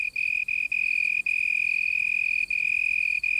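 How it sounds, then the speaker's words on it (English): A male cricket chirps steadily by vibrating its wings, a loud, close, high-pitched continuous trill broken by a few brief gaps, with no voices. "the male cricket has developed a system comparable to a loudspeaker, where a vibrating membrane, his wings, is surrounded by a baffle"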